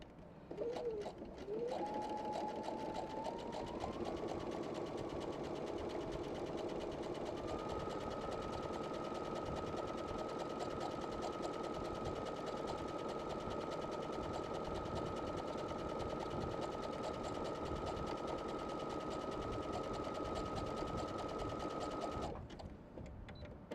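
A Brother PS500 sewing machine stitches sample stitches in one continuous run of steady, fast mechanical whirring close to the microphone. It starts, rises to a constant pitch after a few seconds, then stops near the end.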